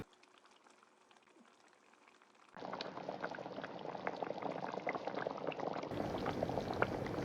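Fish curry gravy bubbles at a steady boil with fish pieces in the pot, a faint simmer at first that jumps to a dense, close, continuous bubbling after a couple of seconds.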